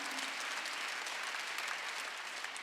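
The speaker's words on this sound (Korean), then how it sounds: "박수." A church congregation at a Wednesday worship service breaks into applause on the pastor's call, a soft, even wash of many hands clapping heard from a distance, steady and quiet.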